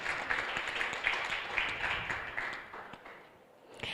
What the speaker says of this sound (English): Give Florence a round of applause.